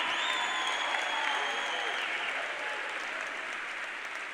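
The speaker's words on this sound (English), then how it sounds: "Give yourselves a round of applause." Audience applause fills a large hall at a motivational speech, steady dense clapping throughout at a moderate level, slowly easing toward the end.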